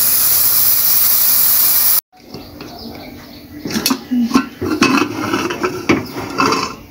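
A pressure cooker of dal vents steam in a home kitchen as a loud, steady hiss that cuts off abruptly, followed by quieter clinks and shuffling sounds.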